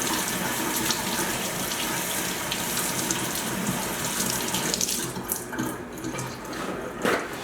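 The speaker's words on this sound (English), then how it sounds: "Rinse my hand again." Running water from a kitchen tap splashes steadily over a hand as it is rinsed, a close, continuous hiss with small changes in the splashing near the end.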